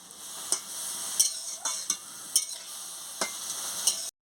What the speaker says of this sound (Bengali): জল দিয়ে নুন দিয়ে ভালো করে নাড়িয়ে নিচ্ছি।